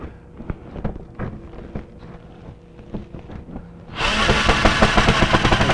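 A power drill drives screws into a shelf-style background panel for an aquarium or reptile enclosure. Light handling taps come first, then the drill cuts in loud and steady, whirring close for the final couple of seconds.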